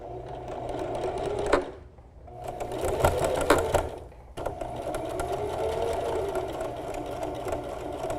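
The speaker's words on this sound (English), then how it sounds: "I'm going to be making a seam line that is 1/2 inch away from my cut edge" A sewing machine runs a straight-stitch seam through a T-shirt's layers, its steady motor whir broken by two brief pauses before resuming at an even pace, close and fairly loud.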